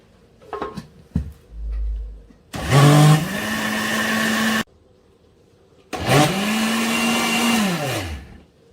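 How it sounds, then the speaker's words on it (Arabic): A Moulinex blender whirs through basbousa batter made with lemon zest in two loud bursts, each spinning up and settling to a steady whine before cutting off, with brief clatter and a short low rumble before the first run. "من بعد ما كنوضعوا المقادير في المولينكس غنطربوا الخليط مزيان باش يتجانس لينا مع"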